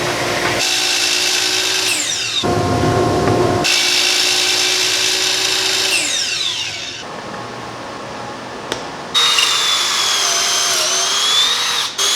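A power drill bores pocket holes in wood with a Kreg jig: several loud, close bursts of whining motor separated by short pauses, with the pitch shifting as the bit cuts, and no speech.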